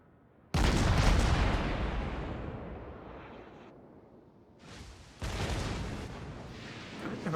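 Heavy naval gun salvos from an enemy cruiser in World of Warships, two deep booming volleys crashing in with long rumbling decay between them, loud and close.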